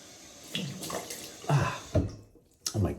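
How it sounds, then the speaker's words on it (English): Cold running water rinses shaving soap off a face after a shave, with several splashing bursts and a trickling hiss in between, close and moderately loud, with no voices. "let's wash it off, shall we? Ooh, cold water."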